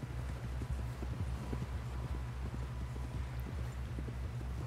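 Horse hooves clip-clop at a quick, even gallop in Red Dead Redemption 2, the beats steady and fairly close under soft wind-like background noise.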